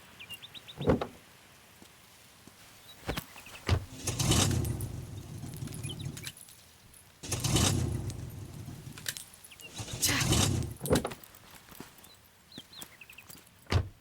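A car refuses to start: the key is tried and the engine cranks in two long grinding attempts without catching, separated by clicks and door or key noises, moderately near.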